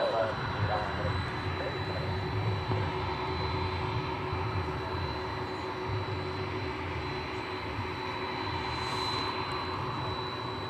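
A jet airliner taxiing at night at DFW airport gives off a steady, even engine roar with a thin constant whine, holding at a moderate level without a break.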